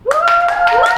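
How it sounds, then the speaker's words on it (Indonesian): Short burst of a few hand claps in a student podcast studio, loud and close, layered over a sustained rising then steady tone, lasting about a second. "tepuk tangan"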